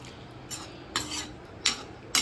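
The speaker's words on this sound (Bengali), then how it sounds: "জলটাও ভালোভাবে সমস্ত কিছুর সাথে আমি মিশিয়ে দিচ্ছি।" Shrimp, potato and papaya curry with a little added water being stirred in a pan, with four separate scraping, clattering strokes of the spoon against the metal at a steady pace, close up.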